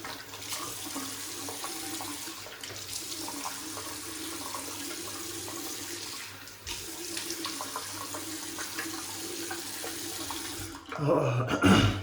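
Tap water runs steadily into a sink while a man wets his face before a shave, a continuous close rush that swells louder with splashing near the end.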